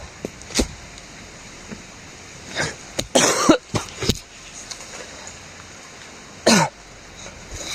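A man coughs several times in short bursts with throat clearing amid gusty outdoor wind, fairly close and loud, with quiet gaps between the fits.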